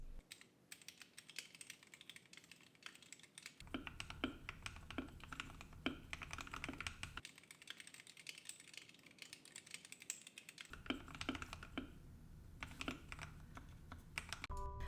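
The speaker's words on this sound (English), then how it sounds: "the silicone mod was cheap and easy, and definitely gave the keyboard a less hollow sound" Steady typing on a silicone-modded acrylic Wormier 68 mechanical keyboard, clacky keystrokes in quick bursts with brief pauses, close up and fairly quiet, with no voices.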